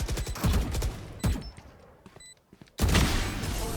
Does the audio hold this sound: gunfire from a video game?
yes